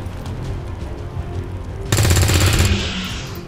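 A soldier fires a weapon in XCOM 2: one loud, dense burst of rapid gunfire erupts midway and rings out over steady background game ambience, then fades in a short echoing tail.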